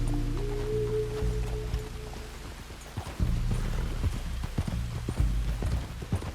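Horse hooves clip-clop in the Western video game Red Dead Redemption 2, a loose irregular series of thuds under a low rumbling hum, moderately close and partly masked by the background.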